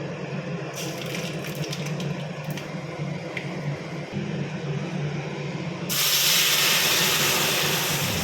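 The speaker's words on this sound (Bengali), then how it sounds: "এবার এখানে ডালটা ফোড়ন দেবো" Boiled dal being tempered in hot oil in a home kitchen sizzles and hisses steadily, then swells into a louder, brighter sizzle near the end.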